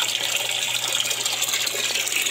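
Water discharged from an aquaponics tank gushes and splashes steadily into a sump, a loud continuous rushing pour with no pauses, close by.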